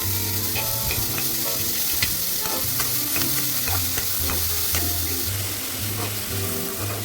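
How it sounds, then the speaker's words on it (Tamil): Restaurant-style fish manchurian (chilli fish) with capsicum fries in a pan and is stirred, giving a steady close sizzle broken by repeated scraping strokes throughout. "இது நல்லா கொஞ்ச நேரம் ஃப்ரை ஆகட்டும்."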